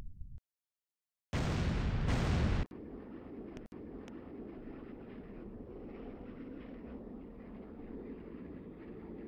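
Underwater explosion picked up on submarine acoustics in a multiplayer naval warfare game: after a brief silence, a loud, harsh double blast bursts in, then settles into a steady low rumbling wash that continues to the end, with no voices.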